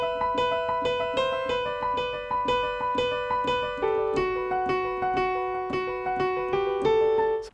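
Solo piano playing a piece, a steady rippling pattern of evenly struck notes with the thumb's melody line brought out slightly louder above the arpeggios, close and clear.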